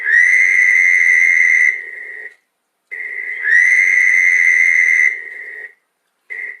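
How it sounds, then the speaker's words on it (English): A Fowler's toad on Long Island gives short, nasal, buzzy trills, each lasting about two to three seconds before cutting off sharply, repeated with brief gaps, loud and close. "The Fowler's toad, which again is the one that we have for the most part on Long Island, sounds like this."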